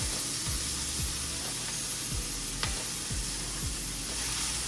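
Chopped greens hit hot olive oil with a loud, steady sizzle that runs throughout, broken by several stirring scrapes and clatters up close.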